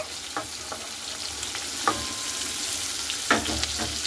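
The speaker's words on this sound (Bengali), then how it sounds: "পেঁয়াজটাকে খুব ভালো করে লাল লাল করে ভেজে নেব।" Chopped onions fry in well-heated oil with a steady, close hiss, punctuated by a few sharp clicks from a spatula stirring them in the pan.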